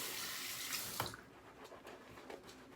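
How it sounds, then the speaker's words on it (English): A short stream of water splashes into a shaving bowl while building lather, then cuts off, leaving a few small drips and faint clinks. "I'm going to add one more drizzle of water in there."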